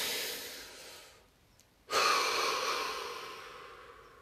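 A single deep breath drawn during a guided meditation, a soft inhale fading to near silence, then a louder exhale that trails off slowly.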